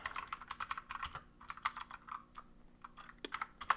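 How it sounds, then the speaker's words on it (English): Typing on a mechanical keyboard: rapid, uneven bursts of clacking keystrokes, close and fairly quiet, with brief pauses between runs and no talking. "Mechanical keyboard life."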